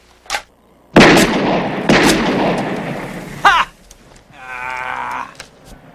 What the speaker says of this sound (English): So let's shoot us some beers.